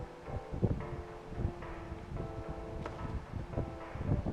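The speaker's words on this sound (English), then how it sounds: "there's windy sounds because I have a fan on" An electric fan blows air across a microphone nearby, producing low rumbling buffets and gusty wind noise that rise and fall unevenly, with no speech.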